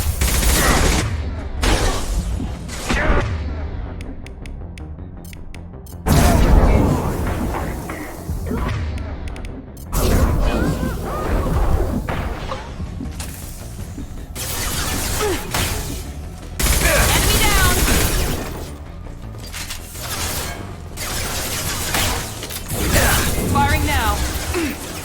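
Weapons firing in combat in Mass Effect 2, with repeated loud bursts of gunfire and crashing impacts in several waves, separated by short quieter gaps, with voices talking at times.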